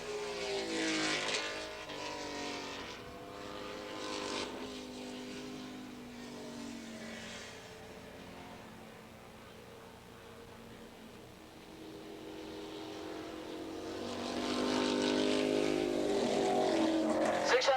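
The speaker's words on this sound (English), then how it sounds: "So we got a Ducati, a Norton, a Ducati, and a Norton in that order. So Italian bikes and British bikes doing battle out here in this class." Ducati and Norton motorcycles race past on a track, their engines rising and fading as they come by, loud at the start, quieter in the middle, then swelling again.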